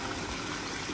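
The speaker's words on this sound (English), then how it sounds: "we've got a little pinch waterfall right there with the little sheet, and then a nice sheet on top, and then you can see it bubbling up" Water streams steadily down a small pondless backyard waterfall, falling in thin sheets over rock and bubbling up at the headwaters, a close, continuous wash with no talk.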